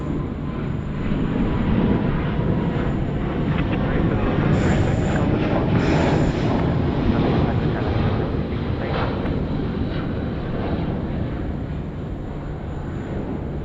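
A jet airliner departing Sydney Airport at night gives off a steady, broad roar of engine noise that holds loud throughout, with a faint high whine above it.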